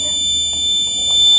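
Continuous high-pitched electronic buzzer from a soil moisture sensor garden watering system, holding one steady tone throughout over faint background noise.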